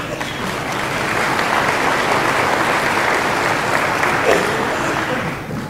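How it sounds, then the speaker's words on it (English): Graduating students at a community college commencement break into loud, sustained applause for themselves, a dense wash of clapping from a large crowd that tapers slightly at the end. "Feel free to give yourselves a round of applause."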